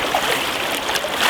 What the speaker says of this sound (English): climb in and put a bit of water in the bucket